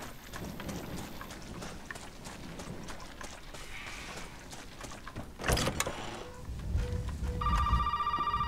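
A telephone ringing in the horror game Resident Evil 7, a repeated electronic ring that comes in near the end over a backdrop of steady rain and rumbling thunder.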